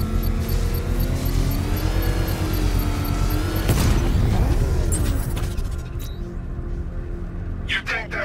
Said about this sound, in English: To trigger a controlled explosion.